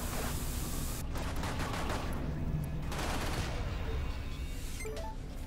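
Turret gunfire in the space shooter Everspace, a continuous loud barrage of rapid shots over a constant engine-like rumble, swelling in a couple of denser bursts, with no voices.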